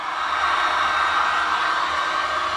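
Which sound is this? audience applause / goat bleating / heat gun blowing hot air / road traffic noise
heat gun blowing hot air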